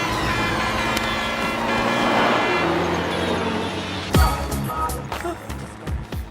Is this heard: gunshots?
no